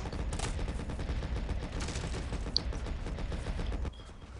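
Gunfire in the Men of War Assault Squad video game, a dense run of rapid shots and bursts going continuously for about four seconds before dropping away, with no talk.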